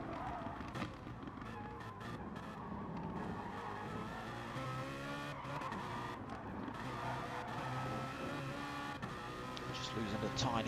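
BMW M4 GT race cars in a sim racing game at the Nürburgring GP circuit, engines rising and falling in pitch as the throttle is feathered through consecutive turns, with faint tyre squeal and a commentator talking over them.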